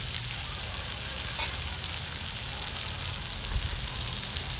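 Brinjal frying in oil on a wood-fired stove, a dense, constant crackling sizzle with fine popping, close and even throughout.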